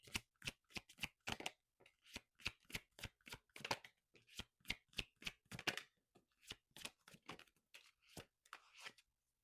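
Oracle cards are shuffled by hand in a quiet room, a close run of about two dozen crisp riffling bursts in an uneven rhythm with short gaps between them, no voices over the top.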